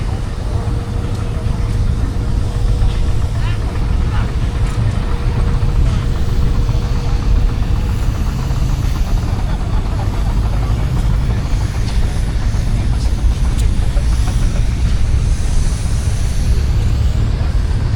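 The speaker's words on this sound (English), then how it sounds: "There's quite a good turnout of steam engines today" Steam traction engines, including a Burrell road engine, and an Aveling and Porter Invicta steamroller run at a steam working weekend, a loud continuous rumble and chuff with mechanical clatter across the whole stretch.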